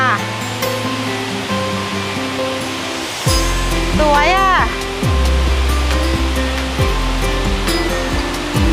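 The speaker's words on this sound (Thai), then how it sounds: "น้ำตกที่ ไหลลงมาจากที่สูงสูงมากๆค่ะ น้ำตกสาลิกา" Sarika Waterfall in Nakhon Nayok, swollen in the rainy season, pours from a great height. Its loud, steady roar starts abruptly partway through and continues as a dense wash, with a voice briefly heard over it.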